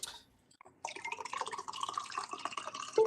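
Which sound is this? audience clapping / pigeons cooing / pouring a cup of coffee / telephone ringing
pouring a cup of coffee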